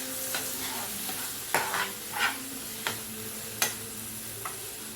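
A Kerala-style clam roast sizzling in oil in a pan, a steady close frying hiss broken by a few sharp scrapes and clinks as it is stirred, with no talk.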